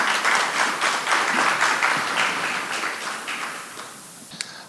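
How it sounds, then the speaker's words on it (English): An audience at a university space day event applauds to welcome a speaker, with a dense burst of clapping that thins and fades out over a few seconds. "So let's give him a round of applause as a welcome."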